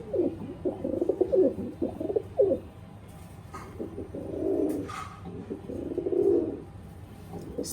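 A pair of Pakistani Teddy 128 pigeons coo softly nearby in low, rolling throaty bursts, with a few faint background noises between calls.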